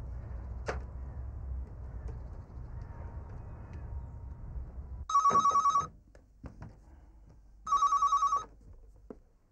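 Telephone ringback tone on an outgoing call, two loud electronic ring bursts about a second long with a pause between them, following a quiet stretch with faint handling noises.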